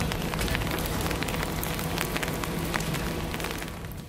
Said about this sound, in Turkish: Yağmurun zaman zaman etkisini arttırmasıyla birlikte cadde ve sokaklarda su birikintileri oluştu.